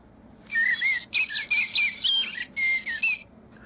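A blackbird sings clear, fluting whistled phrases, several short bursts in quick succession with brief pauses, close and prominent over a quiet background.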